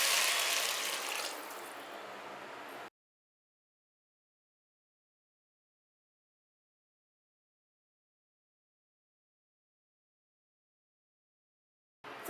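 Water pours steadily into rice for matar pulao for about three seconds, a close splashing rush that thins as the vessel fills, then silence follows with a brief noise at the very end.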